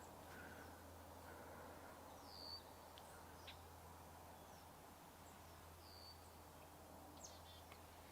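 Small songbird calls, thought to be a chickadee, at Sargeant Bay Provincial Park in early May: a few faint, brief chirps at a distance over a steady low hum and outdoor background noise.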